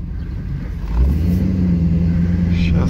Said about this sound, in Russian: Джипик нормально завелся.